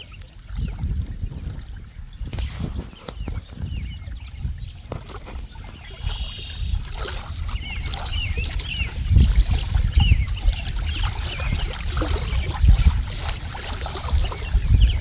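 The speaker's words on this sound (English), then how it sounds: "I'll be quiet for a minute so you can listen to the waves." Small lake waves washing in to shore, irregular splashes and laps building louder toward the end, with faint birdsong chirping in the background and no talking.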